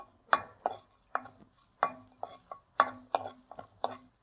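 A spoon stirs a spice mixture frying in a pan for thoothuvalai-thippili rasam, giving a series of quick metallic clinks and scrapes in an uneven rhythm, close and fairly quiet.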